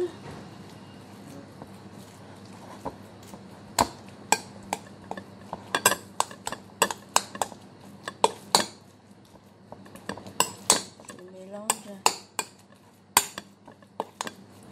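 A metal spoon mixes mung bean paste with honey in a bowl, producing irregular clinks and scrapes against the dish with quiet sounds in between.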